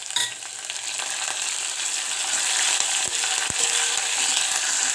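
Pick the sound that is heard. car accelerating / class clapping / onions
onions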